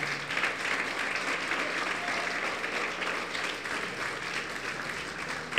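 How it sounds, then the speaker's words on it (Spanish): A church congregation gives Jesus a sustained round of applause, the many hands forming a steady, moderately distant wash that holds evenly throughout before a sudden loud burst at the very end. "Dale un fuerte aplauso a Jesús."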